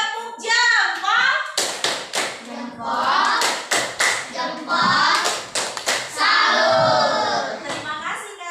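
A classroom of children claps together in a quick rhythmic burst, with young voices chanting and talking over the claps at close range.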